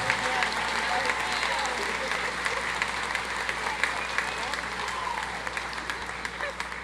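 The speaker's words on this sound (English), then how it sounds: "Would you please give them a well-deserved round of applause?" Commencement audience applauding a jazz band in a large hall, a continuous roar of clapping with scattered sharper claps, moderately loud and sustained throughout, with no voices over it.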